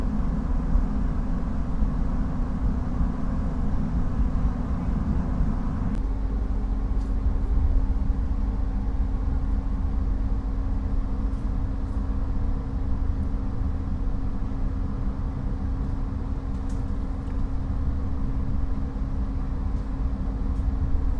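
Argo Semeru executive train pulling out of Gambir station, a continuous low rumble and steady rolling drone heard from inside, with a slight shift in tone partway through and faint high squeaks.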